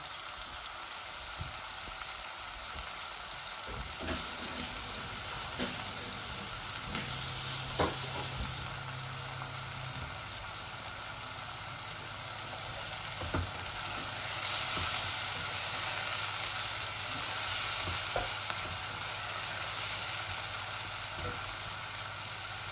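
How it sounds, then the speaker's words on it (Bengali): Dried fish and onions fry in a pan, giving a continuous crackling sizzle with occasional sharper pops and stirring scrapes, close by and with no talking. "পেঁয়াজও মজি যাক, আমি লগে শুটকিও দিলাই, বাজি হয়ে যাক শুটকিগুলা।"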